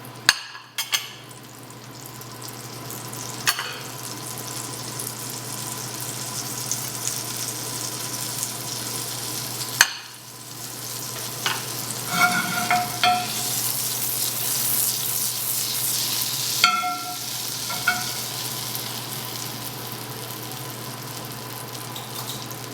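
Asparagus frying in avocado oil and butter gives a long, steady sizzling hiss that swells partway through, with occasional clinks and knocks of utensils on the pan.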